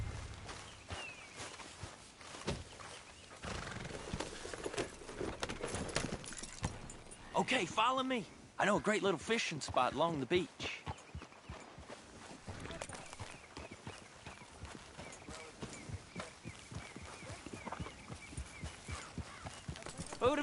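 Horse hooves clip-clop on a ride toward a beach fishing spot in Red Dead Redemption 2, a rapid rhythmic trotting patter under game music and someone talking.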